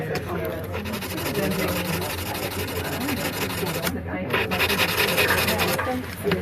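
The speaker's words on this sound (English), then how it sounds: "you can go through the process of doing filing to this as well, or you could just do sandpaper" A metal die being filed or sanded by hand gives a continuous close rasping rub with short rhythmic strokes, a brief pause near the middle, and no words spoken.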